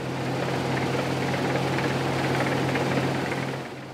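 A Massey Ferguson Centora 7382 AL combine harvester, a 2014 model with a new engine, cutting wheat: a loud, steady engine drone with a constant low hum and mechanical rumble, holding level before easing slightly at the end, with no talk.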